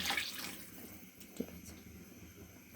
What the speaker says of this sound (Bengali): এখন পানিগুলো দিয়ে দিব